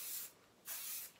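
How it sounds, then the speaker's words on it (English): Extreme-hold hairspray hisses from a can into hair in two short, steady bursts separated by a brief pause, close and soft. "spray it in, flip over,"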